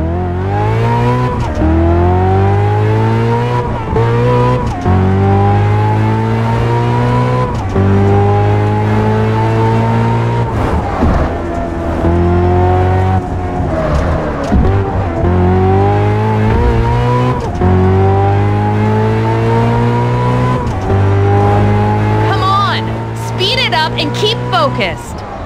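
Loud car engine in Test Drive Unlimited 2 repeatedly climbing through gears with rising pitch, steady rhythmic upshifts, up close and continuous, with tire squeal near the end and a voice speaking over it.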